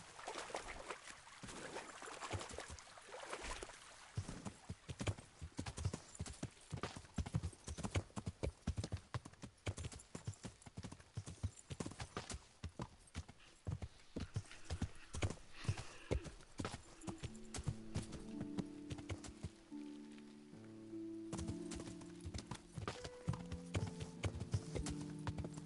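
Horse hooves in the video game Kingdom Come: Deliverance, a steady clip-clop of galloping through shallow water with splashing, then a musical score rising beneath the hoofbeats.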